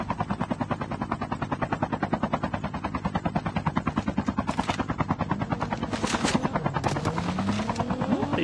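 A helicopter in the mobile shooter Call of Duty Mobile thumps with rapid, steady rotor chops throughout, joined near the end by bursts of gunfire and a rising whine.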